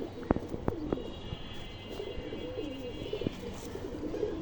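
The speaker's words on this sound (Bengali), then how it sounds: "এই হচ্ছে কবুতরটা। এটা একটা মাদি কবুতর সিলভার।" A silver female pigeon coos softly up close, giving low, throaty rolling coos. A few sharp clicks and taps are mixed in against quiet background noise.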